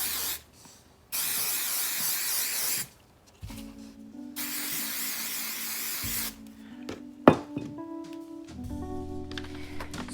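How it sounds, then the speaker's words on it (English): Hairspray hisses onto thrifted paper prints in two long, loud bursts of about two seconds each, separated by a short pause, with quieter handling sounds and faint tonal background afterwards. "Going to spray these prints."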